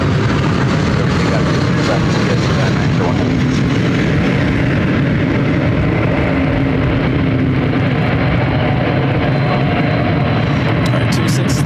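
A jet airliner rolls for takeoff on an airport runway at Ontario, California, a loud, steady broadband engine roar that fills the whole stretch without letting up.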